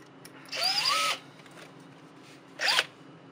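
A power drill with a sharp bit bores out a broken-off bolt in two bursts, a longer whine with a rising pitch followed by a shorter one, both loud and close with quiet gaps around them.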